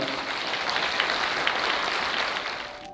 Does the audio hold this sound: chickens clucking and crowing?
no